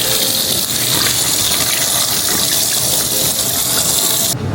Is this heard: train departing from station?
no